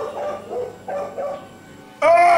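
A dog gives a string of medium-pitched barks and yips at close range, followed by a sudden louder, higher bark or whine at the end.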